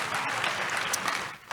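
Church congregation gives a brief, lively round of applause to Jesus during a service, a short dense wash of clapping that tapers off near the end.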